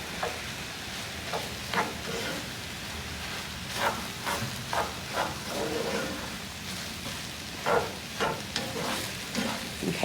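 Tofu scramble and vegetables are tossed and stirred in a hot frying pan: a steady sizzle with rhythmic scraping and stirring strokes, moderately close, and no talk.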